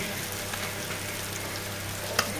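Fish frying in a pan, a close, steady crackling sizzle with fine spattering and one sharp pop near the end, heard alone at moderate volume.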